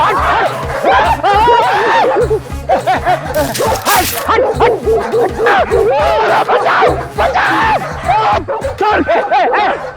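A dog barks repeatedly in a tense scene near a lonely house, sharp yips rising over loud dramatic background music and crowd-like noise, with voices mixed in.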